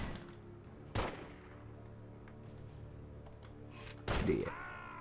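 Two sharp gunshots from The Godfather video game, one near the start and one about three seconds later, each a loud crack standing out over a low steady game ambience.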